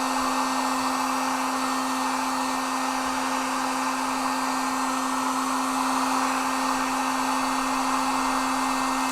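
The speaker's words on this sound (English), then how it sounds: "Let me dry this a little bit so you can maybe see that detail." Hair dryer blowing on stencil structure plaster, a steady loud whirring hum running unbroken from start to end with no talk.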